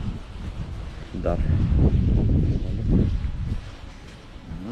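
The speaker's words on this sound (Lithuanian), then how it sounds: "Koks vėjas" Strong wind buffets the microphone in low, rumbling gusts on a boat during pike fishing on open water, while someone speaks briefly over it.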